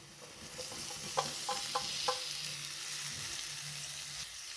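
Ivy gourd pieces dropped into hot oil with roasted masala, setting off a steady sizzle with a few quick scraping stirs partway through, fairly close and without speech.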